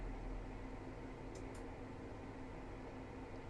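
A Dometic Harrier Plus RV air conditioner running on heat from an off-grid solar and lithium setup, its compressor giving a quiet, steady hum and airy whoosh with no voices.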